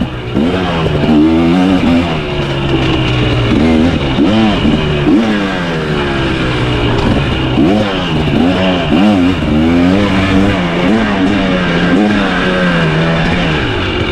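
A 2023 KTM 300XC TBI two-stroke dirt bike is ridden hard through tight single track at Crow Canyon, its engine rising and falling in loud, continuous revving swells close to the microphone for the whole stretch, with no speech.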